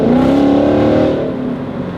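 A Corvette's engine revs hard under heavy acceleration, a loud, close, rising whine that holds and then eases slightly as the throttle lets off.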